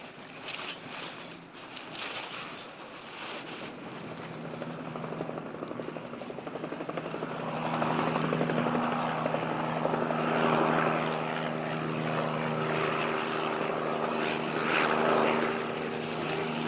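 Police helicopter arriving, its rotor chop and engine drone growing louder and nearer over the desert, steady and continuous without voices.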